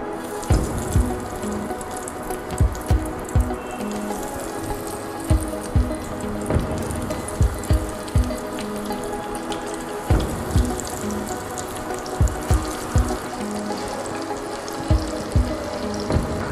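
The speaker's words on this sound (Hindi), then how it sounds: "इसके बाद हम इसको डीप फ्राई करेंगे बिल्कुल लो हीट के ऊपर" Breaded mozzarella rolls deep-fry in oil over low heat with a constant rushing, watery bubbling, punctuated by regular close clinks and taps of utensils throughout.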